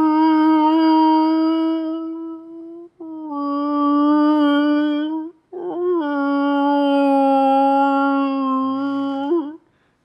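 A person imitates whale moans, drawing out three long, low, wavering vocal tones with rich harmonics and brief gaps between them, sung close and loud in a calm indoor setting.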